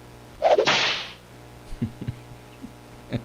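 A single sharp whip crack, loud and close, with a bright burst of noise trailing off, followed by a few faint knocks and clicks in an otherwise quiet background.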